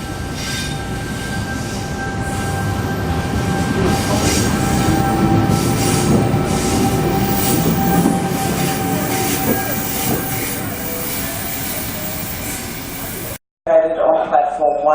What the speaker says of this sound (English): there's the train leaving Cootamundra